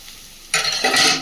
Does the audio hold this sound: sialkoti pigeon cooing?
no